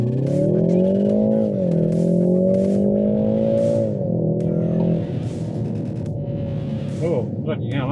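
BMW 330i accelerating in Sport Plus drive mode, a loud, close engine note climbing in pitch through two gear shifts, then settling into a lower cruise as it fades, with brief voices heard over the engine.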